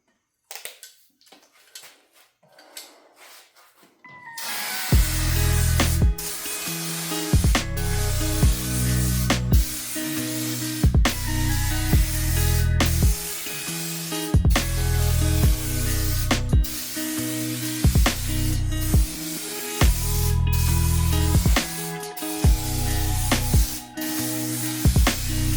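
Rust-Oleum Turbo spray paint can sprayed in long, steady hissing passes with brief pauses between strokes, loud and close, after a quiet opening with faint handling noises.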